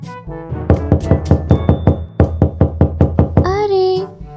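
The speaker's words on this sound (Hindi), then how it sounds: "मैं कब से दरवाजा बजाए जा रहा हूँ" A rapid run of cartoon door knocks, about fifteen sharp raps in two quick bursts, loud and close, ending in a rising squeaky tone.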